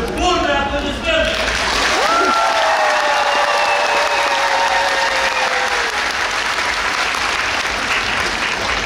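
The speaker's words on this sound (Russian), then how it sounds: "огромное за ваши бурные аплодисменты!" Audience at a circus show applauding loudly and continuously, a dense wash of clapping from a large crowd, with a voice over a loudspeaker briefly heard at the start.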